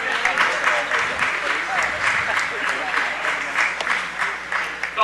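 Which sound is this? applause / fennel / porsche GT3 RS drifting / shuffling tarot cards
applause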